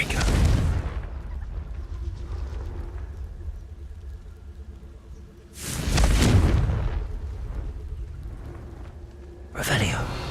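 Confringo fire-blast spell explosions in Hogwarts Legacy, three heavy booming blasts with low rumbling tails, spaced several seconds apart, with a quiet hum between them.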